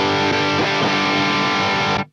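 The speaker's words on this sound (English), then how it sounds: "And another type of a boost distortion." Electric guitar played through a boost distortion pedal ahead of a Marshall amp in a 1980s-style rig, giving a loud, dense, gritty tone with sustained chords and a few picked changes, then an abrupt cutoff after two seconds.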